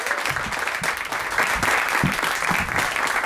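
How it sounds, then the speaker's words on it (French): A live audience claps steadily for the opening of a podcast recording: dense, continuous applause that stays loud and even from start to finish, with no voices over it. "vous pouvez vous applaudir"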